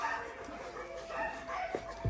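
A dog near a lion gives a few short, yappy barks and whimpers close by, mixed with background commotion and someone talking over the sound.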